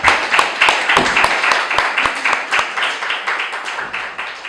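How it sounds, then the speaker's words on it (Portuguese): An audience claps at a book launch, with loud, close, fairly rhythmic clapping that forms a regular beat of sharp hand claps and eases off slightly toward the end. "Simplesmente, se quiserem bater palmas,"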